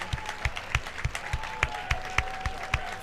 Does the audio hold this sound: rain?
no